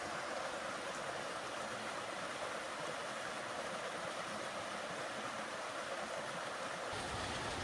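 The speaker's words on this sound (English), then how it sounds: "this really nice waterfall and this kind of raging stream just right along the" A waterfall and raging stream roar in a forest, a continuous broad rush at an even level from start to finish.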